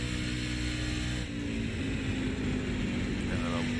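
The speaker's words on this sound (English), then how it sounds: "You'll listen to it kind of feather the gas a little bit." Race truck engine on a lap of Darlington, held at a loud, steady drone with the throttle feathered and a brief dip in pitch partway through.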